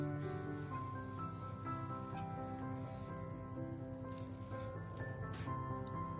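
A chips mayai egg omelette with fried potatoes cooks in a pan, giving a soft, steady crackling sizzle throughout with no clear talking, faint and even.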